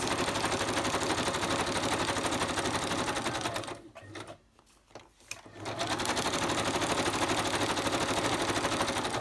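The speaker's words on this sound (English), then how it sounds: "I'm going to stitch around this one here" A sewing machine stitches napkin collage pages in a loud, steady mechanical whir close by, pausing briefly in the middle and then running again.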